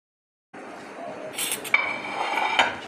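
Boondi is tipped into a bowl while assembling chana chaat, bringing close clinks of utensils against dishware and a light rattle after a brief silent start, with no talk.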